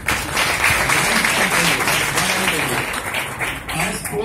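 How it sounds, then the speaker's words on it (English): A large college audience gives the principal a loud, dense round of applause, sustained clapping close by, with some voices mixed into the crowd before it begins to thin toward the end. "a huge round of applause to your principal"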